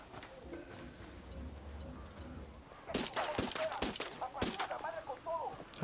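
Pistol shots in Ghost Recon Wildlands, a few sharp distinct cracks arriving in the second half after a quieter stretch of ambient game sound, with some faint background activity around them.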